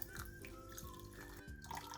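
Cold water is poured into a saucepan holding sugar for syrup in a home kitchen, giving a soft, steady trickle with small drips and splashes at close range, faint and uninterrupted.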